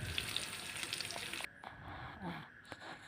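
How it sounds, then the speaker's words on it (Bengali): Hilsa fish frying as bhuna in a pan, with a faint, steady sizzle that briefly drops away midway and then returns more quietly. "এই তো আমি ইলিশ মাছ ভুনা করছি"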